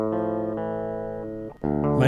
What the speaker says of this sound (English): So this is without it.